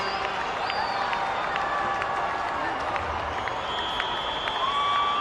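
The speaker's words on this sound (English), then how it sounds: "Cheers go up as the flags make their entrance" Stadium crowd cheering and applauding as the US and Polish flags are carried in before a U-20 World Cup soccer match, a broad steady roar with whistles and shouts across the whole stretch.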